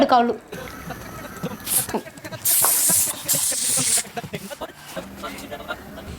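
Two bursts of aerosol spray hissing loudly from a can, each about a second long, with people talking around them.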